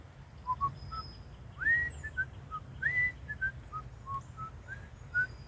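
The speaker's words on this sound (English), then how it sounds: "I can whistle a little bit." A person whistles a few short, wavering notes and little upward slides in a loose, halting tune, fairly faint and close, with quiet gaps between phrases over a low background hum.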